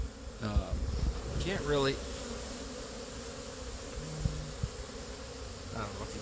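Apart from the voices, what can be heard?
bees buzzing around hive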